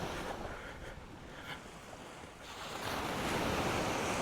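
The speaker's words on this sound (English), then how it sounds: "listen to the sea moment" Sea waves break on Sea Palling beach in Norfolk, a broad wash of surf with wind buffeting the microphone that eases briefly and then builds into a louder, continuous roar, with no voices.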